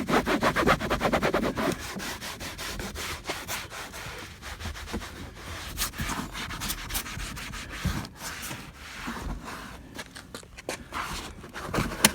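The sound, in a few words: rubbing a car door panel with a microfiber cloth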